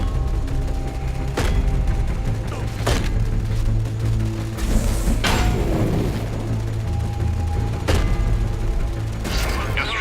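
Loud, dense battle sounds from Warhammer 40,000: Dawn of War III, with bursts of gunfire, heavy impacts and mechanical clanks repeating over a constant low rumble.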